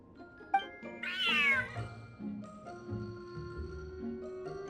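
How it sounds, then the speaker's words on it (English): A cat meows loudly in a Genshin Impact cutscene, one long wavering meow rising and falling, followed by soft sustained musical tones underneath. "Looks like it worked. Smart cat."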